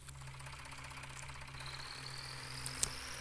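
A tractor engine in the Farming Simulator 20 video game runs at a steady low idle-like drone, with a faint mechanical clatter and a brief sharp tick near the end.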